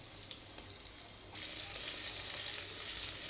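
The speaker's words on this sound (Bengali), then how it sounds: "আলুটাকে আলাদা বেশিক্ষণ ভেজে নিতে হবে, যাতে বেশিক্ষণ সেদ্ধ করতে না হয়।" Potato pieces fry in a pan with a steady hiss of oil that jumps to a louder, fuller sizzle partway through and holds there.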